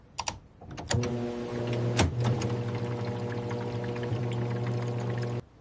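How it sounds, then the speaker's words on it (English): A washing machine starts up with a few clicks and knocks, then a steady hum runs for several seconds before cutting off, close and fairly loud with no talk. "I start the washing machine."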